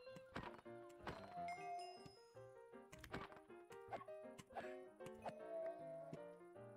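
A donkey struck in a Minecraft modpack, with several sharp hit thuds and short braying donkey cries spread across the clip, fairly quiet and close, with no talking.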